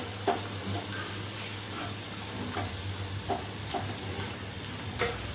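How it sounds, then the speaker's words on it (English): Chicken and corn fry together in a pan with a steady soft sizzle, while a utensil stirs and scrapes in regular strokes about once a second. "Then mix them well and fry all of them together."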